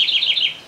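A house wren (Troglodytes aedon) sings in Santa Fe, Argentina: a quick, close, bright run of rapid trilled notes lasting under a second, heard alone.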